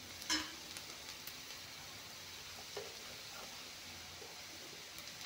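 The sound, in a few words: frying kohlrabi and fish in a pan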